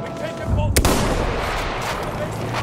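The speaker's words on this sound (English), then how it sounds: "Wait for the enemy artillery barrage to stop firing." Heavy artillery barrage in Battlefield 1: a sharp loud blast near the start, then a dense continuous rumble of distant shelling and gunfire filling the rest of the moment.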